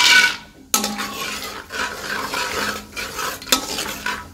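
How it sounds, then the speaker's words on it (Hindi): A cup of almonds goes into a hot pan to fry, bringing a sudden loud sizzle and rustle, followed by scraping stirs and clinks of a spoon against the metal pan. "अब मैं डालने लगी हूँ 1 कप जितने बादाम।"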